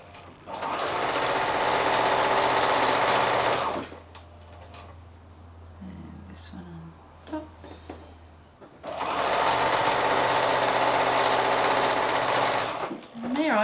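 A sewing machine stitches quilt pieces for a house block with a quarter-inch seam, running in two loud, rapid mechanical bursts separated by a quieter pause with faint handling sounds.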